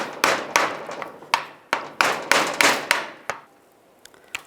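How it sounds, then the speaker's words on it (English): Brass door hinge bushings on a 2007-13 Chevy Avalanche are pried out with a screwdriver or chisel, giving about a dozen sharp metallic taps and knocks in an uneven rhythm, close and fairly loud. "You want to take these bushings out, you can just use a screwdriver or a chisel. Just pry these out."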